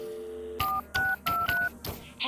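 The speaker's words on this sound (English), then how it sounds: "let's go accept one last phone call from Winter" Telephone keypad tones from a phone call in the video game Budget Cuts: four loud, clean beeping bursts in an even rhythm, each a pair of pure tones, with a short sweeping electronic blip at the end.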